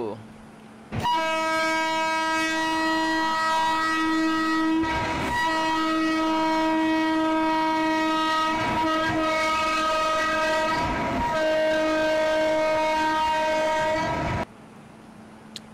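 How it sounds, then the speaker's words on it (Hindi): The 11040 Maharashtra Express hauled by a WCAM electric locomotive arrives at a station, sounding a long, loud, sustained multi-tone horn broken by several short gaps, over rumbling wheels and clatter of passing coaches. "one one zero four zero Maharashtra express आ रही है गाइज आगे से वो भी डब्ल्यू सी ए एम के साथ"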